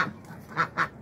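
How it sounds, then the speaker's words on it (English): Geese being tended near grubby water give a few short, close honks, with two loud calls in quick succession near the end, and no voices heard. "Some geese,"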